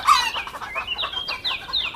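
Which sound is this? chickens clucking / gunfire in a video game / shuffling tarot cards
chickens clucking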